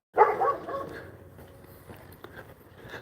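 A dog barks from a house, one loud burst near the start that fades into quieter muffled noise and a few faint sounds, with no speech.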